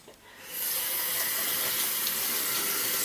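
Beans rinsed under a running kitchen tap: steady, loud broadband water rush that starts after a brief quiet moment and continues evenly throughout, with no voices.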